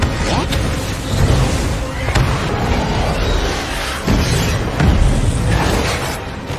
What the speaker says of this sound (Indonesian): melewati batu berapi yang baru saja meledak meletup ini